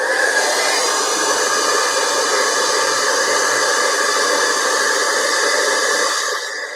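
A heat gun blows steadily on embossing powder, giving a loud, continuous hiss and airflow roar that holds for several seconds before dropping off near the end.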